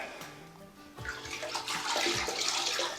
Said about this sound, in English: you're also pre-wetting the substrate so your mortar will soak in a little better